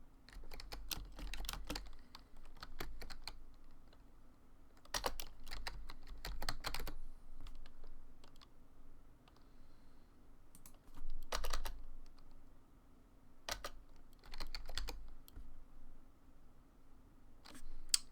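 Computer keyboard typing while playing an old game, heard in short clustered bursts of clicks with pauses between, close and moderately quiet over a low steady hum, no talking.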